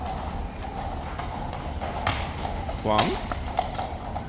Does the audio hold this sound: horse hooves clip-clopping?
yes